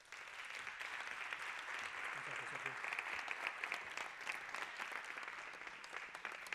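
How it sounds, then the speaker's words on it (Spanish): An audience at a lecture series breaks into sustained applause to welcome the speaker before a talk on gardens, vegetation and wellbeing, an even, moderately quiet patter of many hands. "Un aplauso para él."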